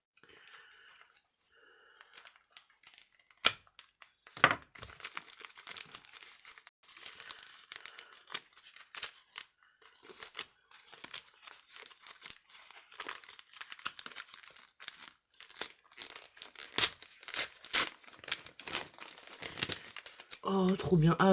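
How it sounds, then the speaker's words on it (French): Paper crinkles and tape tears in quick irregular bursts as someone opens a small rectangular gift box from an Advent calendar, close and fairly quiet, with people talking softly at times. "On va essayer d'enlever le scotch sans se couper."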